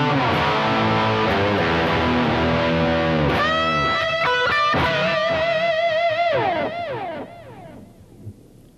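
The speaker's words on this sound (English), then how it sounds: "The lead tone is that sound with a little bit more distortion." A distorted electric guitar plays a lead line in a lead tone with bends and sustained notes, then rings out and fades at the end.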